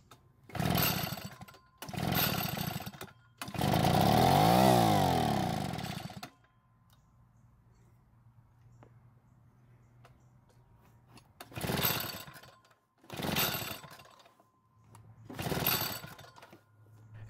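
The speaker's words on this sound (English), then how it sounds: "After multiple attempts of starting it with and without priming it with fuel, the engine would simply not stay running." A vintage Echo leaf blower's small engine is cranked repeatedly and fails to stay running: several short, loud sputtering bursts, then a long buzzing run that dies into near quiet, followed by three more brief bursts.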